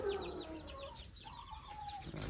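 Aseel chickens, a hen with her chicks, cluck inside a cage, giving soft, close, repeated calls and chirps over a steady background hum.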